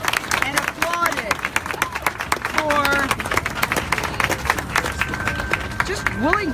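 Outdoor crowd at a slaughterhouse protest clapping for arrested activists, a run of sharp handclaps and cheering mixed with busy chatter, and voices talking close by throughout.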